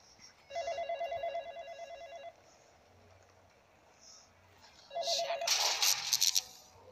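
A telephone rings in the video game The Dark Internet, two bursts of a trilling electronic ring separated by a pause, the second cut off by a loud crashing clatter.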